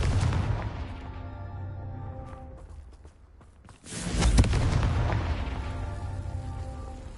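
Confringo explosion spell cast in a Harry Potter video game, a loud booming blast with a crackling rumble that rises after a brief lull over a continuous dense game soundscape, no talking.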